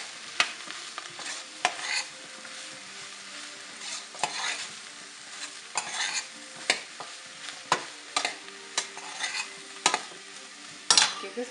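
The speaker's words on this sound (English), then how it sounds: "Stir it for a while." Mushrooms sizzling in a frying pan while being stirred, with repeated sharp scraping and clinking strokes from the utensil against the pan over a steady close frying hiss, no voices.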